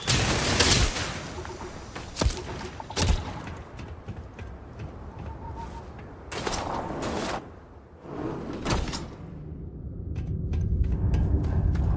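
Gunfire in the video game Starfield, with sharp shots and bursts scattered over a dense, rumbling battle soundscape of whooshes and impacts, fairly loud throughout.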